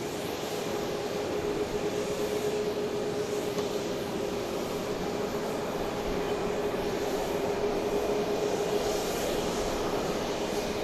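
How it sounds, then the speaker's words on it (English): A Boeing 737 MAX 8 bound for Birmingham passes at night at Dallas Love Field, a steady loud jet roar with a sustained whine running unbroken throughout, no voices. "passing us now, I can tell you, is going to Birmingham. It's a 737 MAX 8 flight 1586."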